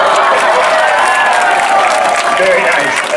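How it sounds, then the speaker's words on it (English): A crowd at a sea lion show at the Florida State Fair claps, cheers and screams in a dense, continuous roar that is loud and close, with voices shouting over it. "clap your hands, scream really loud and make a lot of noise"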